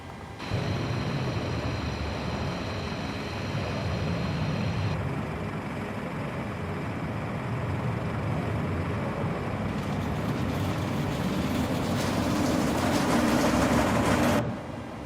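Airliner jet engines in Microsoft Flight Simulator 2020 roar steadily for about fifteen seconds, a broad loud rumble with a high whine layered over it. The whine drops out partway, then the roar swells toward the end and cuts off abruptly.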